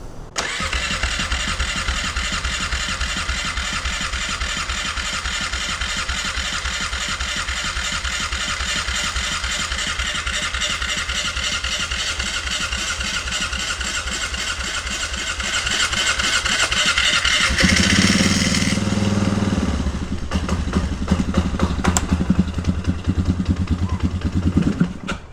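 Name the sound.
1997 Polaris Sportsman 500 ATV engine starting and running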